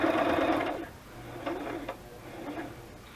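A sewing machine stitches paper and fabric pieces together for a craft journal, starting with a loud close whir that stops, then shorter, softer runs and taps, with no voices.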